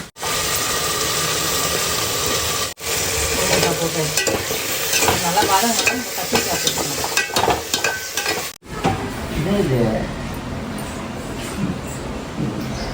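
Moringa drumsticks with dal are stirred in a hot pan, giving a close, continuous sizzle broken by scraping strokes of the spoon and a couple of brief pauses.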